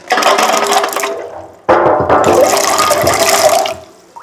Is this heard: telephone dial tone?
no